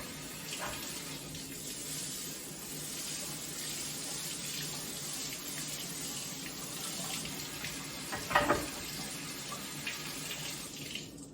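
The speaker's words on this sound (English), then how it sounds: "go ahead and rinse it out with cold water" Cold tap water runs steadily into a sink, with buckwheat grains being stirred and sloshed under the stream as they are rinsed, and a brief clatter partway through.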